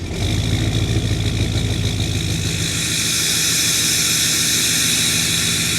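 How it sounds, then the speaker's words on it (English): A truck engine idles on a cold morning after a cold start, a steady loud hum with a constant mechanical drone up close and no talk. "All right, little cold start."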